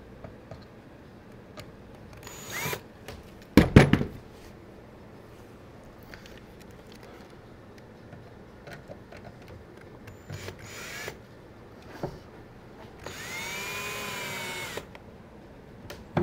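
A power drill drives screws into the wooden frame of a high deck chair: a couple of short whirring bursts early on, then a longer, rising whine near the end, separated by quiet handling noise.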